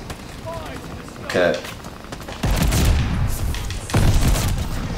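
Rapid shotgun blasts fired in a video game, a few heavy booming shots in quick succession with a short spoken word near the start.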